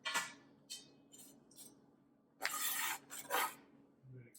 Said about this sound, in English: When I finish chopping, I will take my knife and go the opposite way just to cut any other ones that I may have missed.